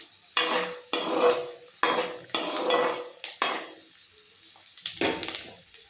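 Onions being stirred in a pan for egg fried rice, a utensil scraping and clinking against the metal in a run of distinct strokes, fairly close and with no talk.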